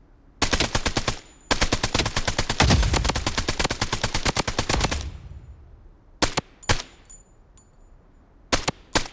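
Rapid automatic gunfire from the Blood Strike video game, long loud bursts followed by a few shorter, sharper shots near the end.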